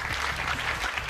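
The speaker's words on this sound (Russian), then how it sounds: "Давайте поаплодируем теперь алматинцам." Studio audience applause at a televised bingo lottery draw in Kazakhstan, a dense, even wash of clapping filling a brief moment with no voices over it.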